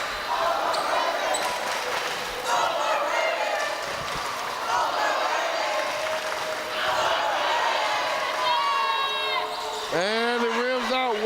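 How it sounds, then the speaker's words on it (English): Crowd noise at an overtime period of a Ramsay versus Pleasant Grove basketball game: a steady roar fills the gym under a commentator's voice, with sharp sneaker squeaks near the end. "As the crowd makes some noise."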